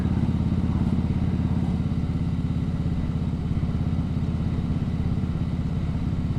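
A Harley-Davidson Fat Boy motorcycle with a Vance & Hines Pro Pipe exhaust and baffle idles with a steady, throbbing exhaust beat, loud and close, its rapid pulses continuing evenly throughout.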